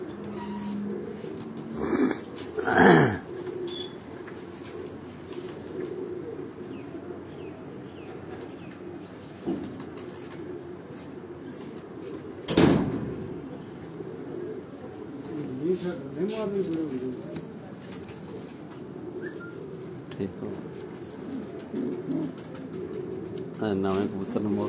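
Pigeons at a loft coo in soft low murmurs, with wing flaps and handling noises near the start and middle, while someone talks over the birds.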